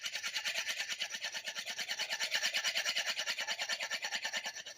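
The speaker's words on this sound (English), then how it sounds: "we could also try with this hefty steel here" A blade is stroked against a hefty sharpening steel in quick, even scrapes, a steady close rhythm of many short strokes each second, fairly quiet with no voices.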